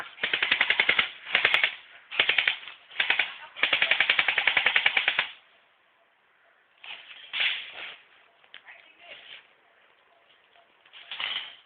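Airsoft BB guns fire in rapid bursts during a game, several loud rattling volleys of quick snapping shots in the first half, then fainter scattered shots with some distant activity afterward.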